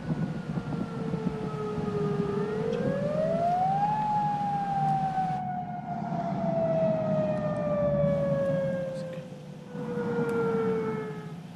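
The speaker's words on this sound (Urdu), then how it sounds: "علاقے کو خالی کرانے کے لیے پولیس اور ایمبولینس کے سائرن بجائے جا رہے ہیں" Police and ambulance sirens sound during a tsunami evacuation, a loud wailing tone that rises steeply, then glides slowly downward over several seconds, with layered siren tones overlapping against low background rumble and no speech.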